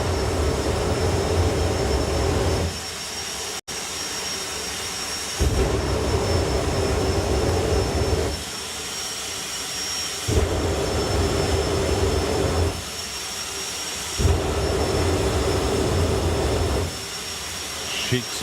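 A Ford Mustang-bodied Firestorm jet funny car at a drag racing festival runs with a loud, sustained jet roar that swells and eases in repeated long surges.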